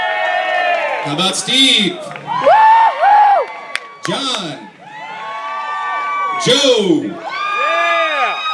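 A crowd at a chicken wing eating contest in Highland, Illinois cheers and shouts as contestants are named, with loud whoops and calls mixed under a host's voice announcing names.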